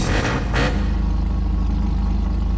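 An Annis Savestra car in GTA5 revs its engine: a loud, close, buzzing drone opens with a couple of sharp throttle blips, then settles into a steady idle hum.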